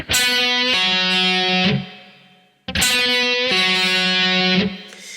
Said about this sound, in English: I'm going to pick it and pull off to the open G.